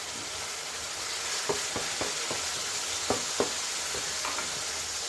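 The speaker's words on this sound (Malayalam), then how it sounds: "ഈ വെള്ളം വറ്റിയതിന് ശേഷം എണ്ണയിൽ കിടന്ന് മൂത്ത് വരും കേട്ടോ" Bitter gourd fries in oil in a home kitchen, a soft, steady sizzle with a few light taps and scrapes of stirring scattered through.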